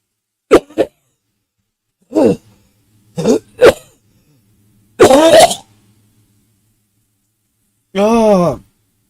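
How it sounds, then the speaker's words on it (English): A person coughs and clears their throat in several short, separate bursts, close to the mic and fairly loud, with quiet gaps between them and one longer, raspy cough near the end. "Like I'm wanting to cough and"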